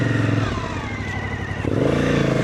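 A Suzuki V-Strom adventure motorcycle on green lanes, its engine running loud and close with a steady throb, the pitch climbing and then shifting as it revs harder near the end, with no talking.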